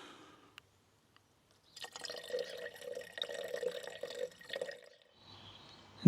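Water trickles and splashes as it is poured into the coolant reservoir of a Vauxhall Corsa D with a coolant leak, a steady run of a few seconds after near silence, fairly close and unaccompanied by talk.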